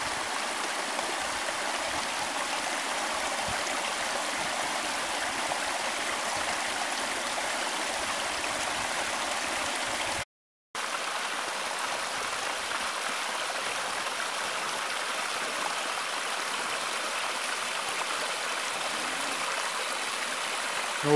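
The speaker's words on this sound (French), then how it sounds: "C'est une dérivation de la coulée qu'on utilise pour laver nos chaudières." Stream diverted from Lake Barker at a maple sugar shack, used for washing sap buckets: a steady, even rush of flowing water with a split-second break midway, constant and moderately close.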